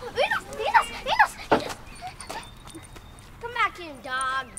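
Dog barking outdoors, a few sharp barks early on and later whimpering yelps, with people talking around it.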